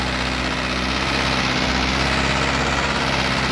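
A Mahindra Yuvo 585 4WD tractor engine runs in a loud, unbroken low rumble that holds steady throughout, with no voices over it.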